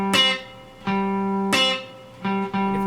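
Guitar playing a country train beat lick slowly, choppy muted strums alternating with sustained notes in a steady rhythm, close and alone.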